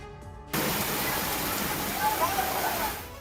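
Heavy rain pours down on flooded streets of Latur, Maharashtra, with floodwater rushing past, a dense, steady roar of water that kicks in suddenly after a brief quieter start and stays loud and close throughout.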